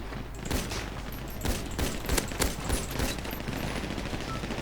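Rapid bursts of automatic gunfire crackle in GTA V FiveM, sharp repeated shots in quick clusters with louder cracks scattered throughout, a dense firefight running alone without voices.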